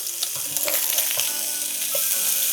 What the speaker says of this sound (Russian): Кладем на сковороду 2 ломтика ветчины